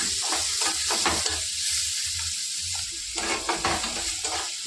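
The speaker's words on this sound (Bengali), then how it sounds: "একটু পেঁয়াজ রসুনটাকে ভাজা ভাজা করে নেবো" Onion and garlic frying in a pan for a Bengali pumpkin and Malabar spinach chorchori with hilsa fish head, a steady close sizzle broken by stirring scrapes and clinks, with no voices.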